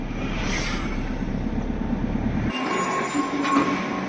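Train rumbling and rattling through a station in Sicily near Taormina and Giardini Naxos, heard up close as a steady loud roll with a faint high squeal, before the rumble drops away to quieter clatter.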